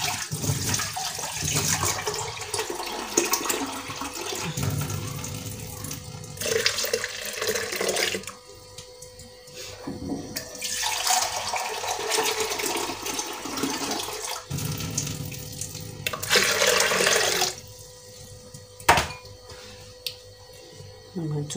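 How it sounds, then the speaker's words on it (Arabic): Water running steadily from a tap into a cooking pot holding a barley mixture in a kitchen, a loud continuous splashing stream that pauses briefly and resumes. "وهذه غنعمرها بالماء نيت وغنخوي فوق منها"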